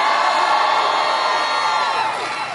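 A large rally crowd in Virginia roars and cheers continuously, loud and close, with whoops rising out of the dense wall of voices before it tapers slightly.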